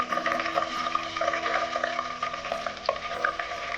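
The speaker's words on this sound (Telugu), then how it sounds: "ఇప్పుడు ఒకసారి కలుపుకున్నాము" Fennel seeds and whole spices being stirred in a hot pan for Hyderabadi mutton haleem, a continuous close scrape of the spoon over bright, busy sizzling with small crackles throughout.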